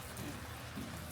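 Quiet, steady rain patters down at a campsite in Ohiopyle State Park, Pennsylvania, as a soft continuous hiss with no voices.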